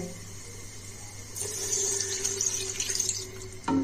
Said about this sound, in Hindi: अब हम इसमें 1/4 कप पानी शामिल करेंगे